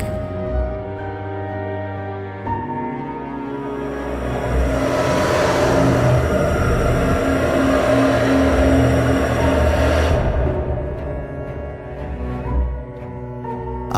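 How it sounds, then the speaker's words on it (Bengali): A motorbike engine starts and revs as a drama sound effect, a steady humming idle that swells into a louder, sustained rev midway before easing back down, with no voices. "দুই বন্ধু এবার সুবর্ণরেখাকে বিদায় জানিয়ে স্টার্ট দেয় বাইক।"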